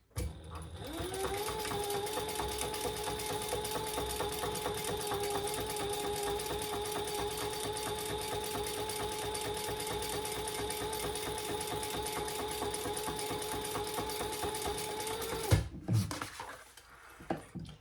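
Sewing machine running steadily as it stitches a second row of topstitching on a crossbody bag, a continuous loud whirring hum for about fifteen seconds before stopping abruptly, followed by faint handling noise.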